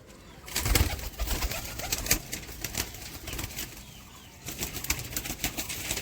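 Chit kal dama pigeons are handled up close, with bursts of wing flapping, rustling and scattered low coos. No speech is heard.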